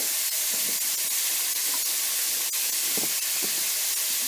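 Raw minced beef browning in a hot pan while cooking spaghetti Bolognese, a steady close hiss and sizzle with scattered small pops and crackles throughout.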